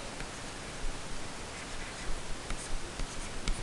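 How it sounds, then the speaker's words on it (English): Pen strokes scratch across paper while a fraction is written out by hand, a close, dry rustling with soft scratchy bursts over a steady hiss, no talking. "And so if I write the fraction"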